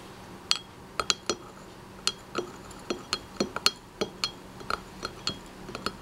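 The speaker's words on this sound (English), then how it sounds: "Then I'm just going to use the end of a paintbrush and stir it." The end of a paintbrush clinks against the inside of a glass of green water while stirring, giving a string of light, irregular taps close up in a quiet room.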